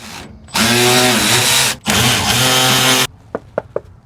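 An impact-style power tool spins off a motor mount bolt on a Daihatsu Hijet kei truck in two loud whirring bursts with a brief pause between them, followed by a few sharp metallic clicks.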